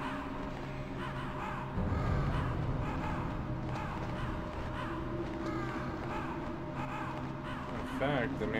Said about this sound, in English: Those aren't crows. Those are northern ravens.